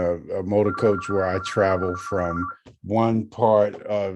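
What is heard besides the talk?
telephone ringing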